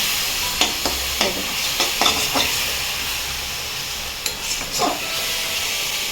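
A coconut and jaggery mixture for sweets is stirred in a pan, soft sizzling and steaming underneath with intermittent scraping strokes of the spoon, close by, pausing in the middle and then resuming.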